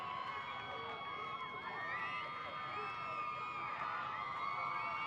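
Crowd cheering and shouting at a rain-soaked youth football game in Leopard Stadium, a steady, lively roar of many voices with whoops rising and falling throughout, continuous and fairly close.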